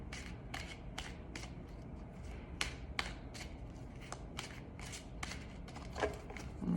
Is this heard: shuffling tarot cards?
yes